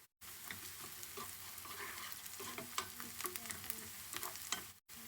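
Curry leaves dropped into hot oil with browned onions for a restaurant-style cauliflower masala curry, giving a steady close sizzle with stirring scrapes and small crackles throughout, after a brief silent start.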